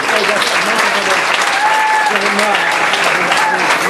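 Loud, sustained audience applause welcoming a traditional Irish music group at a battle of the bands night, a steady wash of clapping with a few whistles and cheers rising above it.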